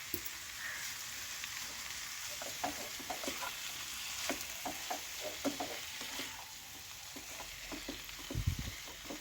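Beef with spices and salt fries in a pan, a soft, steady sizzle with scattered crackles and the occasional scrape of stirring, heard faintly and close-up with no one talking.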